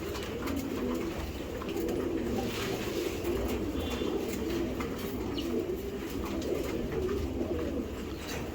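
Racing pigeons coo in a steady, continuous murmur of low throaty calls, many birds overlapping close by with a faint chirp now and then.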